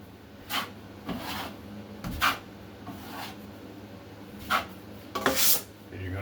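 A trowel spreads drywall mud into a wall joint, making a string of short scraping, rubbing strokes at irregular intervals, fairly quiet and close, with a few louder swipes near the end.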